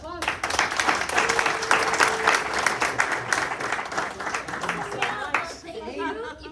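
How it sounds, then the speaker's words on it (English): An audience claps for panelists after a discussion on AI and business, a full round of applause with scattered chatter and a chuckle, tapering off as voices rise near the end. "let's give them a round of applause"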